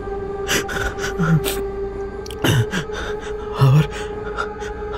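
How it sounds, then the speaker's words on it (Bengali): Rapid heavy breathing from a startled person on a metro train at night, a series of sharp gasps and panting breaths in quick irregular bursts over a steady background hum. "ঘন ঘন নিঃশ্বাস পড়তে লাগলো।"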